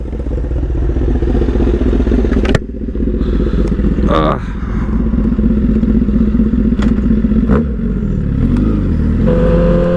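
A Honda CBR1000RR sport bike, back running after a DTC 33 fault, runs close and loud with a steady throbbing engine note, some clattering mechanical noise and a couple of thuds, and a brief dip midway.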